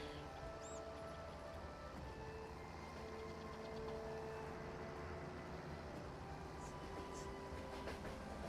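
A train in Farming Simulator 22 rumbles past steadily, a continuous rolling clatter of rail wagons at moderate distance, with no speech.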